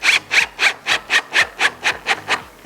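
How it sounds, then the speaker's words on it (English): A drill with an Allen key adapter turns slowly, driving a threaded insert into wood. Ten even, rasping pulses come about four per second, close up, with no talking. "Now we have an Allen key adapter which goes in the drill. I'm going to go on slow speed"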